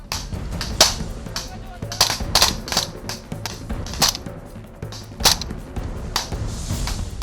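Gunfire crackles through a night combat training exercise, with sharp shots coming every half second or so, some near and loud and others farther off, over a steady rumbling background.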